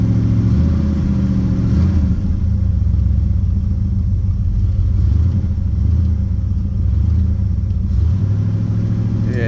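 A car engine holds a high fast idle, a steady close rumble with a low drone and slight wavering, running continuously with no voices.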